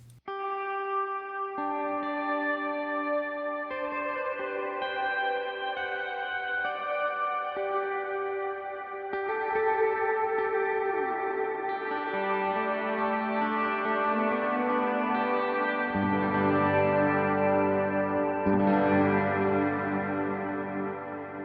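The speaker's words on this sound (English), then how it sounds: "which is basically just a long modulated plate reverb" Sustained electric guitar chords through a pedal's long modulated plate reverb, drenched and shimmering, notes blooming and overlapping into a wash of lingering tails, no voices.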